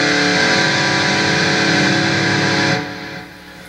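An electric guitar in drop D tuning rings out one loud, distorted, sustained chord that holds steady before cutting down to a quieter fading tail.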